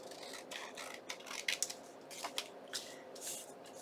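Scissors snip and trim paper for a handmade journaling card pocket, several short close cuts with soft paper rustles between them, quiet and without talk.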